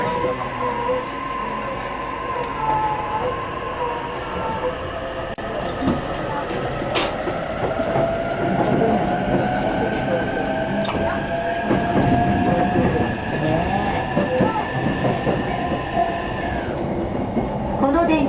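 A JR E233 series Ueno-Tokyo Line commuter train bound for Atami rumbles along the rails between Ueno and Tokyo with a continuous roar, rhythmic clatter and a rising electric whine, while an onboard announcement voice speaks over it.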